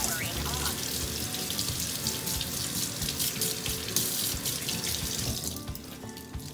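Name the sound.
water running while rinsing makeup brushes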